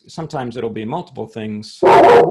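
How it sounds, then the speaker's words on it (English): A dog barking indoors during a town meeting, one loud close bark near the end after a person speaks. "That's the dog"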